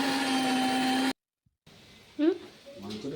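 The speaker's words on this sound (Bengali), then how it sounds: "আমি ওই মিক্সারে এইগুলো করে নিই, আলু ডিমটা পেস্ট করে নিই।" A kitchen mixer grinder whirs steadily while blending potato and egg into a paste, then it stops abruptly into silence before faint kitchen sounds and a voice follow.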